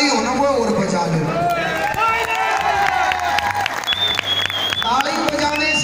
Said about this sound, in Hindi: एक बार अपने लिए जो हरियाणवी ताली हो ना वो और बजा ले